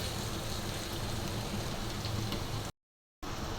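Bitter gourd and potato fry in a pan, a steady, close hiss of sizzling oil that runs continuously, briefly dropping to total silence before resuming.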